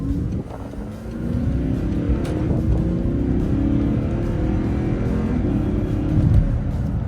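An Audi R8 V8 sports car drives in automatic mode, its engine giving a steady, close cabin drone with a faint rise in pitch across the run and no talking.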